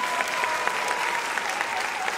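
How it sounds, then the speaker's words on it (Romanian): An audience at the Ioan Macrea national folk festival in Romania claps in a dense, steady burst of applause for a couple of seconds. "Aplauze, vă rog!"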